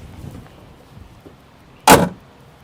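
Hood of a 2024 Cadillac Escalade V slammed shut in a single loud, sharp thud after a quiet moment, followed by fading silence.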